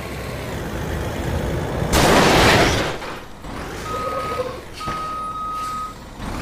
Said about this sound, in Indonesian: ini ada mobil truk molen.